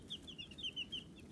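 Chickens in a backyard flock cluck softly in a quick, repeating series of short calls, fairly faint and with no voices.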